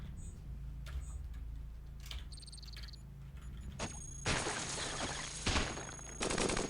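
Grenade explosions in the Cogmind video game: several sharp, loud blasts in quick succession, the later ones sustained and crackling, set against a low game drone with small electronic blips.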